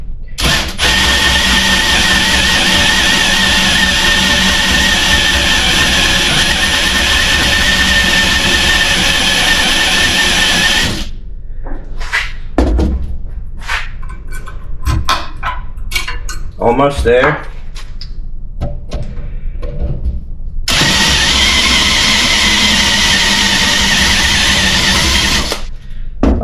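A drill fitted with a spot weld cutter bit grinds into car body steel with a loud, steady high-pitched whine, breaks off into clanks and scrapes mid-way as a voice speaks briefly, then resumes cutting near the end.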